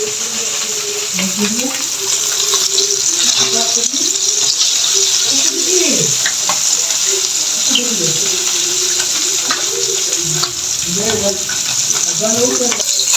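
Gulsha fish fries in hot oil in a pan, a steady close sizzle throughout, while a voice talks over it.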